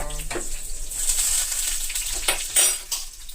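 Washed, chopped amaranth leaves drop into a hot pan with a burst of sizzling and frying that rises and falls as they are stirred, close and fairly loud, with no talking.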